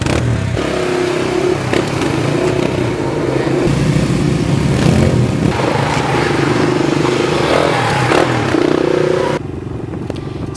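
A patrol motorcycle used for forest and land fire prevention runs steadily and loudly close by, its engine droning with a rough, constant clatter for about nine seconds before cutting off.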